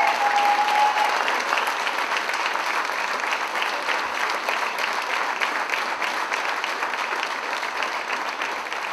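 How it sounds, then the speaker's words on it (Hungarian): A large audience applauds at a farewell concert by a band at a pensioners' club ball, a dense, steady wash of clapping that stays loud throughout, with no talk over it. "aki 64 éves lesz a Koricki Tamás, akinek külön tapsot szeretnék kérni."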